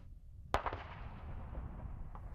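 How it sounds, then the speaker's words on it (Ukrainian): A single distant artillery boom cracks out on the front line near Chasiv Yar, followed by a rumbling echo and a faint second thud, over low background noise. "Артилерія на цій ділянці фронту не стихає."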